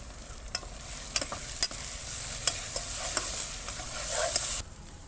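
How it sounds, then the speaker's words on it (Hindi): Chicken and potatoes frying in a pan as garlic ginger paste goes in: a bright, constant sizzle with a handful of spatula scrapes and knocks, close by, ending abruptly just before the close. "अब जो है हम ये लहसुन अदरक का पेस्ट है ये ऐड करेंगे।"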